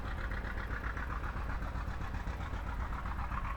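A 1949 Packard car engine idles steadily at a gas and steam engine show, a continuous, even mechanical rumble heard close with no voices.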